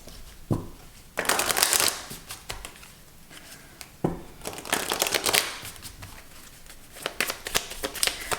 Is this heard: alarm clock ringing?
no